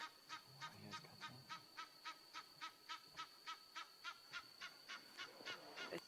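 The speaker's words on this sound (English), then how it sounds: "But some of you probably wouldn't have even thought that Egyptian geese could be quite so fascinating." Egyptian geese at Ngala Private Game Reserve give a long run of evenly spaced, regular honks, about three per second, faint and distant.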